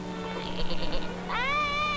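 Young goat kids bleat near a pen, one short wavering cry followed by a longer, clear, tremulous bleat, close and moderately loud with no talking.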